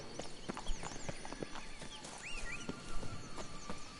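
Roach the horse from The Witcher 3 trots over, a steady run of hoof clip-clops on the ground mixed with ambient game sounds and faint bird chirps, no talking.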